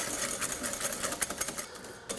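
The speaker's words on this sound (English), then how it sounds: "we're just going to mix the egg yolk and the sugar together, cream it until it's gone nice, thick and pale" Rapid, light metallic clicking and swishing comes from a whisk beating egg yolk and sugar by hand in a bowl, close up, with an even fast rhythm and brief pauses.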